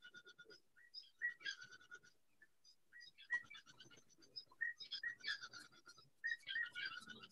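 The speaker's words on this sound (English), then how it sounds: "my birds are now having a chit chat" Small birds chirp and whistle in quick, repeated bursts, fairly close and quiet, with short pauses between the trills.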